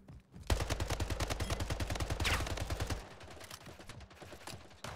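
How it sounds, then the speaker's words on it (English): Rapid battle-rifle gunfire in the Splitgate arena shooter, a steady burst of evenly spaced loud shots for about two and a half seconds, then fainter distant firing and game sounds. "There's someone on top of C shooting with a battle rifle"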